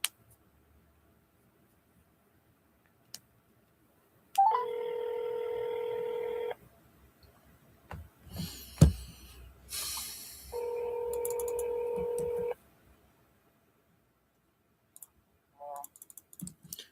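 Telephone dialing tones as a call is placed to a real estate lead: two steady multi-tone blocks a few seconds each, separated by a burst of clicks and noise, clear and close with no talking.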